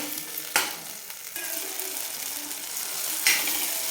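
Fenugreek greens stir-fried in oil in a pan, a steady low sizzle under a few sharp scraping stirs near the start and end, with no talking.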